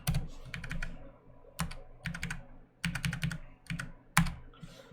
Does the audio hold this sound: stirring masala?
no